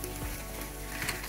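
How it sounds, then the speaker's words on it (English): Chicken cooks over campfire embers with a soft, quiet sizzle and crackle, brief and close, with no talking over it. "You hear the sizzle?"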